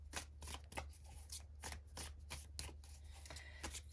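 Tarot cards are shuffled by hand in quick, rhythmic riffling bursts, each a soft crisp flutter of card edges repeated steadily, close and quiet with no talking.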